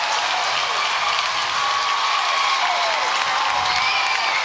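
Dense, steady applause and cheering from a baseball crowd at a Little League World Series game, following a leadoff double, sustained and loud throughout with a broad roar of many hands and voices.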